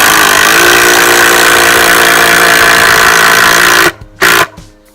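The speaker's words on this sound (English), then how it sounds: "this impact drill just makes massively light work out of it" A loud impact drill whirs continuously for several seconds driving screws into a bed frame, then cuts off, briefly restarts in a short burst, and stops again.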